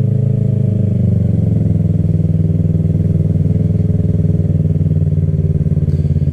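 A Kawasaki Ninja 300 motorcycle engine idles steadily and loud close by, a constant low throbbing rumble with no rise or fall throughout, with no talk over it.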